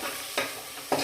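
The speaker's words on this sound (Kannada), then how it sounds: "ಕುಕ್ಕರ್ಗೆ ಹಾಕ್ಬಿಟ್ಟು ಇದು ಸ್ವಲ್ಪ ಹಸಿ ವಾಸನೆ ಹೋಗೋವರೆಗೂ ಲೋ ಫ್ಲೇಮಲ್ಲಿ 1-2 ನಿಮಿಷ ಫ್ರೈ ಮಾಡ್ಕೋಬೇಕು" Ground onion-tomato masala fries on a low flame in a pressure cooker, a steady gentle sizzle broken by two distinct spoon scrapes about half a second apart.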